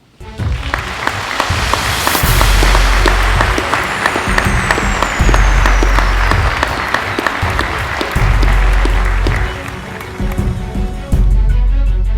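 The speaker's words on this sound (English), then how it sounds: "One more round of applause for Officer Mark Conley." Loud, sustained applause from the audience at a police promotion ceremony, with dense clapping filling the room for about twelve seconds and a short dip near the end.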